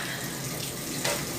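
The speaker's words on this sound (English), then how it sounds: "I'm throwing water all over the place" Tap water runs and splashes in a kitchen sink while collard greens are washed, a steady close rushing hiss with a brief louder splash near the end.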